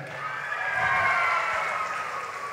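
Audience applause at a live stage concert in Pokhara, a steady wash of clapping that swells then holds, moderately loud and without speech.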